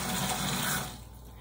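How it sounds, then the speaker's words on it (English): Cold water pours from a tap into a 5-gallon bucket as a steady, full rushing stream, then drops to a softer trickle as the flow eases, heard close and with no talking. "So I'm gonna go ahead and fill this bucket."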